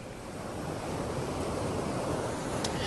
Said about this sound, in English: As you look at the ocean waves, please listen to my dedication.